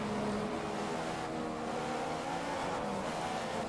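A Williams F1 car engine in the F1 2015 racing game, a steady loud droning whine that holds at a constant pitch across the few seconds, with no voices.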